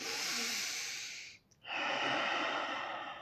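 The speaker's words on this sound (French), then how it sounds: "je souffle par la bouche, je prends du temps, je me pose" A long breath blown out through the mouth during a breathing exercise, a broad steady hiss that stops briefly in a short pause, then resumes as another sustained exhale, close and fairly loud.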